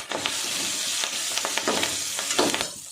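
Curry leaves and chicken sizzle and fry in a pan for chicken kulambu, a steady hiss with a few sharper crackling bursts and stirring scrapes, close and moderately loud.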